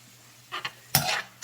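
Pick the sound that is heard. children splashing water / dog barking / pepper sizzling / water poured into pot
pepper sizzling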